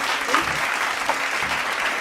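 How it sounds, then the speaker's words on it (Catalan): Family and friends around a table applaud a grandmother during a cannelloni meal, a sustained, lively round of clapping with a few louder claps standing out. "Sempre un fort aplaudiment per l'abuela"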